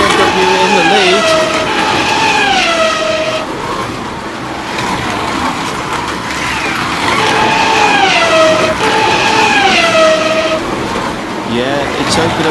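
Scalextric slot cars, a BMW and a Ford Escort Mk1, lapping a track with a whining electric motor pitch rising and falling as each car passes, under continuous commentary from a voice.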